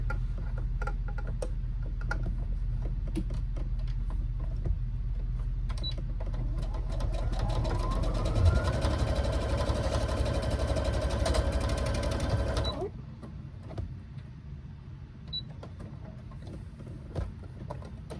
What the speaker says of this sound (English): Machine didn't like that bulky seam there.